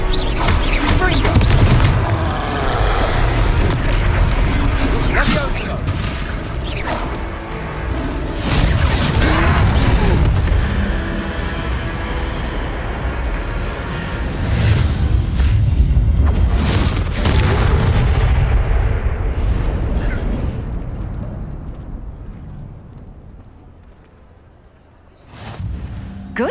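Fire spells cast in the Hogwarts Legacy video game against trolls set off repeated heavy booming blasts and crashes, with loud bursts in quick succession, then the noise fades into a quieter tail.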